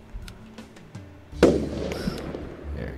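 Fireworks going off inside the Roblox game Lumber Tycoon 2: a sharp burst followed by crackling and fizzing that sustains for over a second, preceded by a few small pops, fairly loud with no talking over it.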